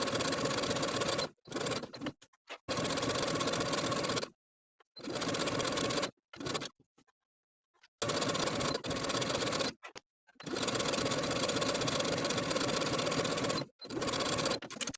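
A sewing machine stitches a neckband onto a jumpsuit bodice, running in steady bursts of rapid, even stitching with brief pauses and one longer stop, close and loud with no talk.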